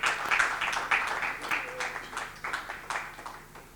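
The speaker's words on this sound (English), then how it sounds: "please welcome our panel members with a round of applause" Sparse, scattered hand clapping from a small audience welcoming panel members at an urban mobility forum, individual claps audible in an uneven rhythm that thins out toward the end.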